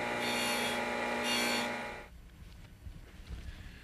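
Disc sander smooths the ends of cut brass dowel pins with a loud, steady whirring grind for about two seconds, then cuts off and leaves quiet workshop room tone.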